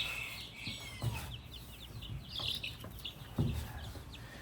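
Hens cluck softly and intermittently during a health check, a quiet scattered chatter of several birds with faint peeps, and no talking.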